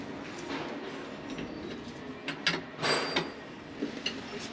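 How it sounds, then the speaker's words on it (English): A wrench works loose a jam nut on a 1976 Kenworth K100 cabover truck, giving scattered metallic clicks, creaks and a few sharper knocks, close and moderately loud over faint shop background. "see if I grab the right wrench, and we'll see if we can loosen up this jam nut up top"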